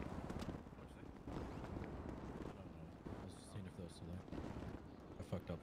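Many gunshots crack in rapid irregular bursts, fairly faint and distant-sounding, with voices talking over them.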